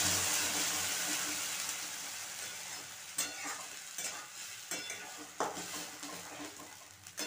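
Bottle gourd peel paste for lau bakhla stirred in a pan over rising heat, a loud sizzle fading slowly while repeated scrapes and knocks of the spoon against the pan punctuate it.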